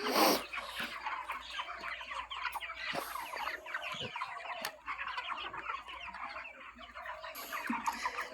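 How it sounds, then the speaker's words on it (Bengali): A large flock of poultry on a farm, around two thousand birds in one section, clucks continuously in a dense, steady chorus, near and fairly loud with overlapping calls throughout. "এ সাইডে আমাদের মুরগি আছে ইন টোটাল 2000"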